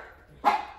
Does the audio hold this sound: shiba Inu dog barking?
yes